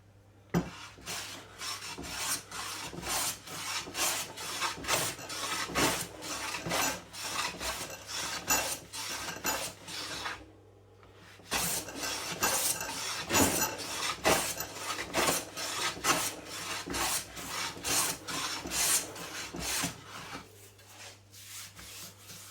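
A hand plane smooths torn wood grain in a fast, regular series of rasping strokes. The swipes are close and continuous, with one brief pause partway through.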